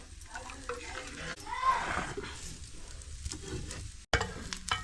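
Food sautéed and stirred in a pan in a home kitchen: a continuous close sizzle with scraping stir strokes, swelling in the middle, then a brief drop before it resumes.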